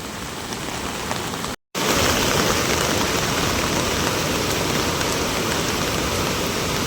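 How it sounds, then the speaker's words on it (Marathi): Heavy monsoon rain pours down steadily over a flooding village river, a loud, dense hiss that cuts out for a split second and then resumes just as strong. "आणि अजून पाऊस पडतोय"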